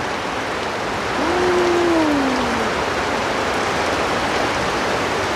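Steady, heavy rain pours down outdoors as a dense, even hiss that holds for the whole stretch, with one brief faint tonal sweep rising over it.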